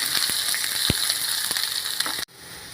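Shallots and curry leaves sauté in hot oil as a close, steady sizzle with a few light stirring knocks, then the sizzle cuts off abruptly near the end; no talk.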